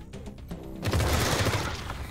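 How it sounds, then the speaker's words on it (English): Burst of Wasteland 3 combat gunfire: a loud sustained volley of shots and impacts erupting after a quieter opening, dense and close, with no talk over it. "Just shoot it a couple of times."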